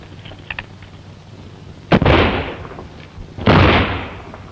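Gunfire rings out in an old-time Western radio drama shootout: two sharp, loud shots about a second and a half apart, each followed by a booming decay. Faint clicks come just before the first shot.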